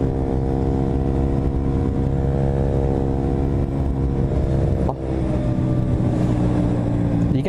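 A steady, loud engine drone with strong low harmonics runs throughout from a KTM RC125 motorcycle cruising, with a brief dip in tone partway through.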